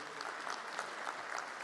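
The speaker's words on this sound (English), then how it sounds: "Let's give him another round of applause" Short stretch of continuous audience applause for a minister at an SME and cooperatives gathering, a thick even rattle of clapping hands filling the hall at moderate level.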